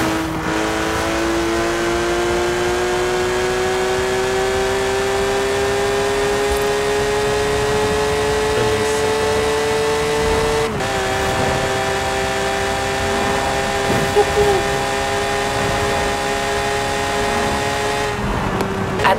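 A car engine drones steadily while driving in Forza Horizon 4 played on a steering wheel, a loud sustained tone that climbs slowly in pitch, drops briefly as the gear shifts, then rises again.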